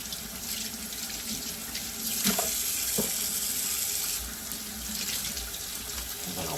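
Cold water pours from a kitchen tap into a sink to rinse chitlins, a steady close rushing splash that runs unbroken throughout with slight changes as the stream hits the meat.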